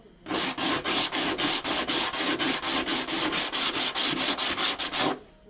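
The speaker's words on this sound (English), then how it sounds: "I'm sure hearing all this sanding sucks, but some people like the sound of sanding actually" Hand sanding a mannequin in quick, even back-and-forth strokes, about twenty rhythmic rasping passes close up, with no talking.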